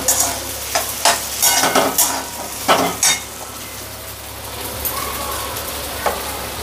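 Boiled potatoes are stirred in a frying pan, loud scraping strokes of a spatula in irregular bursts over a continuous sizzle, then the stirring eases and the frying carries on quieter.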